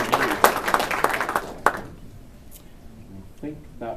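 Audience at a monthly astronomy club meeting clapping for about two seconds, a short burst of applause that fades into quiet murmuring voices.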